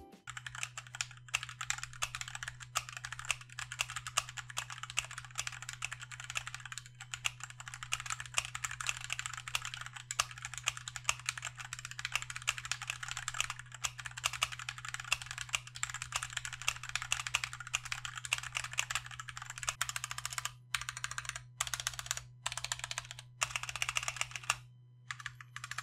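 A Fantech Maxfit87 RGB TKL mechanical keyboard being typed on up close: a fast, steady stream of keystrokes over a constant low hum, broken by a few short pauses near the end.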